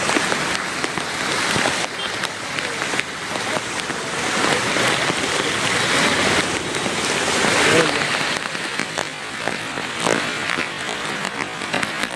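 Heavy rain pours steadily in Junagadh city during a downpour, a dense continuous hiss with drops pattering on surfaces nearby and brief voices now and then underneath.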